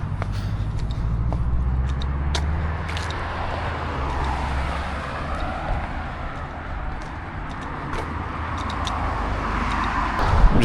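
Steady roadside traffic rumble on a main road in Armadale, Perth, with cars passing, a continuous low drone and occasional brighter swishes, fairly close, no talking.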